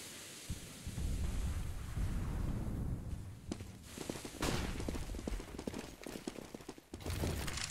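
Rapid bursts of gunfire in a Counter-Strike firefight on the Inferno map at a 2015 tournament match, with a dense, rumbling rattle of shots that comes in clustered volleys over a steady background din.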